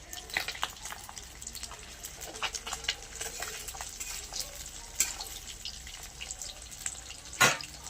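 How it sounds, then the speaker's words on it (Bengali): Fish fries in a pan over a wood-fired stove, a soft, fairly faint sputtering sizzle with scattered crackles and pops and one louder clatter near the end. "এই যে মাছগুলো ভাজতে দিয়েছি।"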